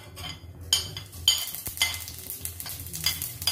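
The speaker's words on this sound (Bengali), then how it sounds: "এখন গোটা জিরেটাকে একটু ভাজবো" Whole cumin seeds frying in hot refined oil in a kadai, a crisp close sizzle with repeated clinks and scrapes of a spoon stirring against the pan.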